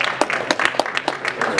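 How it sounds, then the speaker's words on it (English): A modest round of applause from a debate audience, with individual claps distinct and close together, mixed with some voices in the room. "so give him a round of applause"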